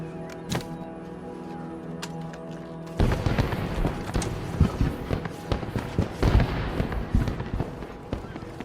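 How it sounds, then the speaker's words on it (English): Fireworks set off at a train dock in Red Dead Online's Blood Money content erupt after a quiet stretch into a rapid run of crackling pops and heavier booms that keep going for several seconds. "once the fireworks are going off"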